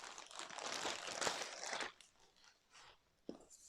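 A crinkly plastic pouch, taken from a padded envelope holding watercolour supplies, is handled up close, giving two seconds of dense rustling and crackling, then quieter scattered crinkles and one sharp snap near the end.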